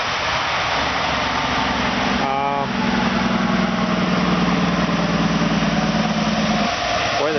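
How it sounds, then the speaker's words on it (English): Steady road traffic noise beside a bridge construction site, with a constant engine drone and vehicles passing nearby, moderately loud and continuous. "Boy, the traffic is noisy here."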